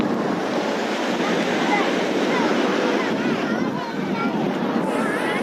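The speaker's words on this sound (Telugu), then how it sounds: "అలలు ఎగిసేస్తున్నాయి బాగా." A continuous roar of surf and wind at a Chennai beach in the evening, waves washing in steadily nearby, with faint voices underneath.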